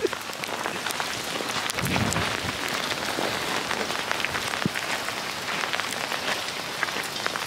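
Dense, steady pelting of hail on surfaces nearby in Norway, a continuous hissing clatter with scattered sharper hits.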